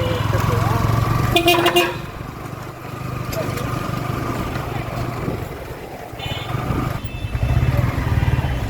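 A Yamaha R15 motorcycle carries a rider with a passenger on the back along a wet road, its engine giving a steady, close drone mixed with road and wind rumble throughout.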